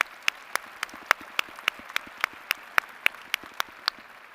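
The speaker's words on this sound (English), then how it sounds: "Let's give them a round of applause as well." Quiet, sparse claps sound in a commencement audience at UW–Madison honoring faculty and staff. About fifteen distinct, evenly spaced claps are heard, faint and somewhat distant, with no chatter.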